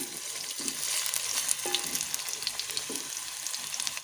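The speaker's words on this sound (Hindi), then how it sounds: "5 मिनट तक मैं दोनों चीज़ों को पका लूँगी, प्याज और आलू को।" Onions and potatoes frying in a pan with a steady oil sizzle and crackle, occasional light stirring scrapes, continuous and close, no voices.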